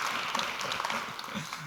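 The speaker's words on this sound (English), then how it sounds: "You're clapping now." Audience clapping during a talk, a dense, steady patter of many hands filling the whole moment at moderate volume, with faint voices mixed in underneath.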